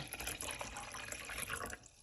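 Liquid is poured into a container in a steady, splashing stream that stops abruptly after about two seconds, with no talking.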